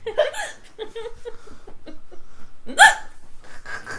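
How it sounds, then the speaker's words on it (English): Sharp, squeaky hiccups burst out several times at irregular intervals, close and loud, with short bits of laughter and chuckling in between. "Who just randomly gets the hiccups?"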